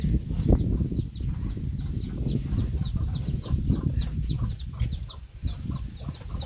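Chickens clucking on a rural farm plot, a busy flock giving many short, overlapping clucks in quick irregular rhythm, close and moderately loud over a constant low rumble of background noise.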